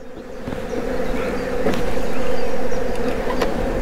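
Dense honeybee buzzing fills the air close by as frames are moved from a nucleus box into a full hive, a loud steady drone with a few faint knocks of wood.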